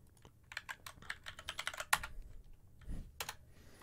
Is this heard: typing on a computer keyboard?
yes